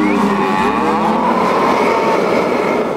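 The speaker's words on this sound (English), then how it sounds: "There was one calf hanging on that south fence." Cattle on a ranch, a single loud, close, drawn-out moo lasting several seconds, heard alone with no talking.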